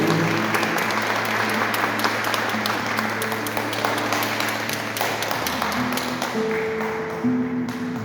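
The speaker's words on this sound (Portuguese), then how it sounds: "Vamos aplaudir a palavra de Deus nessa noite." Sustained applause from a church congregation after a Gospel reading, dense and steady throughout, with a low organ or keyboard tone holding underneath.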